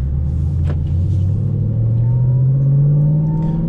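A 2013 Camaro 1LE fitted with a stage 3 clutch and short-throw shifter drives off, its engine a loud, close, steady low rumble that climbs gradually in pitch as it accelerates, with no voices.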